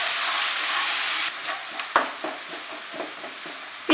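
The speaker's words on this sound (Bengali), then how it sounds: "তারপর এর মধ্যে আমি কুচানো পেঁয়াজটা দিয়ে দিলাম। মাঝারি আঁচে রেখে আমি পেঁয়াজটাকে ফ্রাই করে নেব।" Chopped onion frying in a pan over medium heat, a continuous sizzle that drops after a moment, followed by repeated scraping and stirring knocks of a spatula in the pan.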